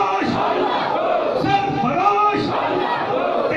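A gathering at an Islamic naat event in Pakistan chants religious slogans in unison, loud massed voices rising and falling in repeated call-and-response bursts close by.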